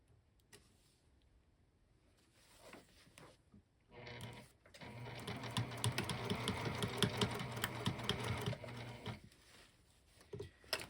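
A sewing machine stitches the lining seam of a sling bag, running steadily at close range for several seconds after quiet handling noises and stopping with a few faint clicks.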